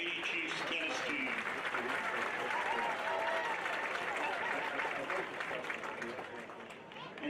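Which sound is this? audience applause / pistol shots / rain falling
audience applause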